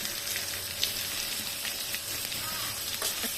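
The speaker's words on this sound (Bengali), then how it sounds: "একটু ভেজে নিই, তারপরে বাকি উপকরণগুলো দিব।" Prawns frying with onion and turmeric in a pan give a steady, dense hiss of sizzling oil with a few faint stirring taps, close and continuous, no one speaking.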